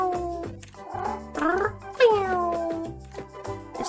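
A cat meows several times in rising, whiny calls over a steady low background, sounding close and fairly loud, from a video game.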